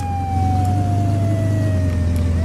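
Emergency siren in the Flashing Lights game, a slowly falling wail that turns upward at the end, riding on a heavy, constant engine rumble, loud and near.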